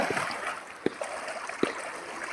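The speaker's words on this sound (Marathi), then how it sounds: "त्या तिकडं खळ खळ खळ खळ खळ पाण्याचा आवाज यायला लागला आहे" A river flows and gurgles softly at a bathing spot in a forest, a faint steady wash of water with a few brief splashing ticks.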